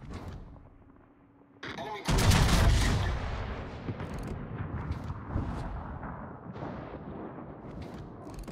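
Battleship USS Wisconsin's heavy guns in World of Warships firing a sudden loud booming broadside after a quiet moment, followed by a long rumbling decay with scattered lesser blasts and a game voice speaking over it.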